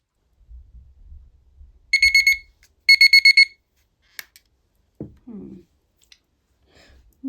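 Kitchen-style timer giving two quick bursts of rapid electronic beeps, followed by a few clicks and faint handling noises in a quiet room.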